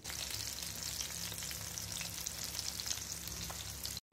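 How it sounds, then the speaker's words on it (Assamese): Fish frying in hot oil in a pan, a steady dense sizzle with fine crackles throughout, close and fairly quiet, ending abruptly. "এতিয়া মই মাছ ফ্ৰাই কৰি আছো"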